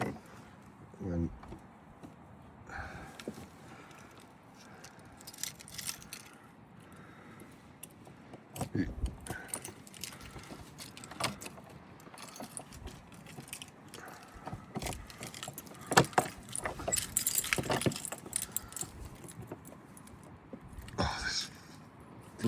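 A bunch of keys jangles and rattles in irregular bursts while someone fiddles with a stubborn lock, with clicks and knocks scattered throughout and voices talking in the background.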